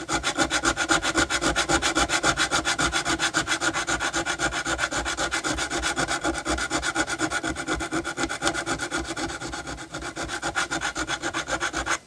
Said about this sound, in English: I'm going to have to take the crowning file to it